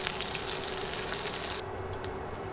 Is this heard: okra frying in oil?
yes